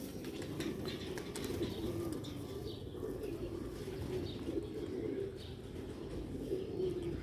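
Sialkoti black-faced pigeons coo softly in a park loft, low rolling coos repeating over faint background chirps and light ambient noise, no voices.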